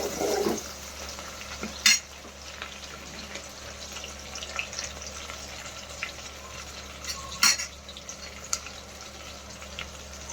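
Green chillies being stirred into a cabbage keema fry in a pan, with a steady low sizzle and two sharp scraping clinks of the spoon against the pan, no one talking.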